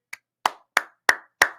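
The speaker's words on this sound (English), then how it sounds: "Clap if you will." Five separate hand claps from a single person, spaced at an even, fairly quick beat, each one sharp and close with a short ringing tail and silence between them.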